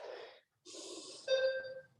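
Breathy, forceful exhales during a Pilates exercise come in short bursts, a soft rush followed by a brief pause and then a stronger, more voiced push of air, close and fairly quiet with no talking.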